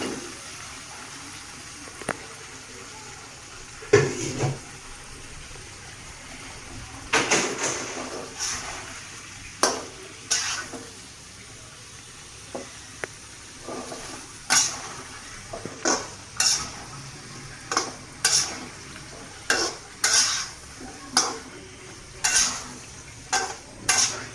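Broad beans, potato and cauliflower tossed into a pan of cooked spices, a low sizzle under repeated spatula scrapes and clinks against the pan that grow more rhythmic and frequent toward the end.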